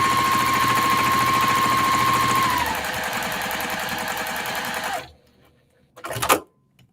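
A sewing machine stitches a quilt block in a steady, fast mechanical whir for about five seconds, a high whine easing partway through, then stops; a short rattling burst follows.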